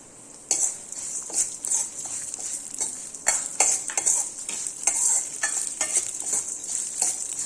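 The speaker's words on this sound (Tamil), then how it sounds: "உளுந்து வந்து நல்லா பருப்படணும்" Urad dal roasting in a pan, with a steady dry crackle and sizzle. Repeated scraping clinks of a spoon stirring against the metal pan are heard close up, with no talking.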